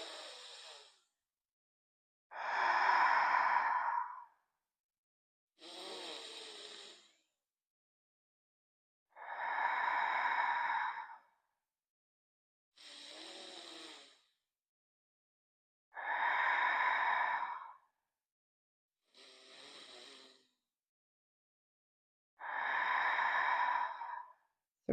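Slow, deep breaths during a third-trimester prenatal yoga session, eight long audible inhales and exhales spaced evenly a few seconds apart, close and clear in an otherwise quiet room.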